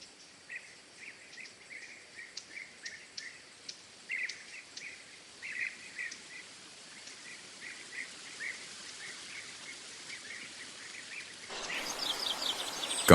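A Kakamega greenbul in a Kenyan forest gives a series of short, repeated, fairly faint calls against a quiet background, before a sudden burst of broad hissing noise near the end.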